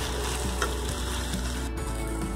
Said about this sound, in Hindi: अब हम इसको एक बार हिला के देख लेते हैं।